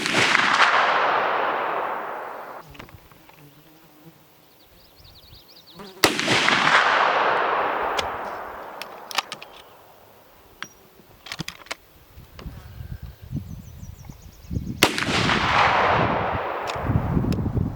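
Three loud lever-action rifle shots from a Winchester, Marlin or Stevens chambered in .44-40, firing low-powered reloads at an outdoor range, each blast booming and then ringing out in a long fading decay, with scattered clicks and handling noise between the shots.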